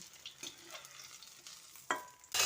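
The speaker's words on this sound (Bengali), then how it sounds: "ওই একইভাবে দ্বিতীয় শিফটের ফুলকপিগুলোও আমি ভেজে নিচ্ছি" Cauliflower pieces frying in oil in a wok, a steady soft sizzle with a few stirring scrapes and a louder burst of crackling near the end, no talking.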